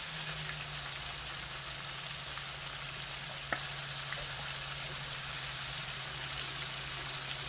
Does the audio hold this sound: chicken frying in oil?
yes